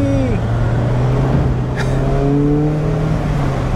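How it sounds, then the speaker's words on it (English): A 2020 Mazda Miata Grand Touring convertible driving with the top down, a steady loud engine drone and road rumble from inside the cabin, with the engine pitch rising and shifting as it accelerates. "The car I'm driving is the Grand Touring trim, which is the fanciest one"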